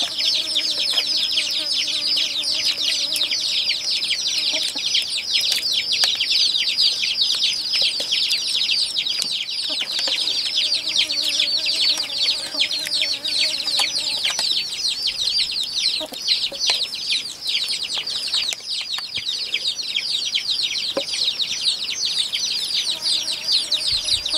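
Farmyard chickens cluck and call continuously, fairly close, over a constant high chirring of insects, with no talking heard.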